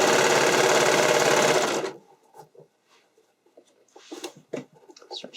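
A sewing machine stitches armhole elastic in a loud, close, steady whir for about two seconds, then stops, followed by faint handling sounds and light rustles.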